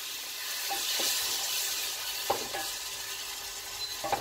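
Ginger and tomato fry in a pan with a steady bright sizzle, while a utensil scrapes and clinks a few times during stirring.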